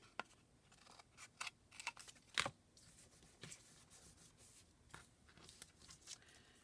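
Scissors cutting paper for a junk journal, a series of quiet crisp snips and rustles at close range, irregularly spaced with short pauses between cuts.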